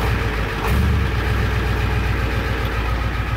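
A 1984 Ford F-250 with the 7.3 IDI diesel idles after a cold start with half its glow plugs working, a loud, low, steady rumble with a rhythmic knock, close by, with no voices.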